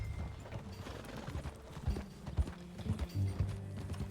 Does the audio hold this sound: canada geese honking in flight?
no